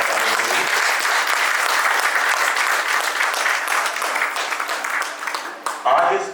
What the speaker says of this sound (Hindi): जोरदार तालियां एक बार इन सभी कलाकारों के लिए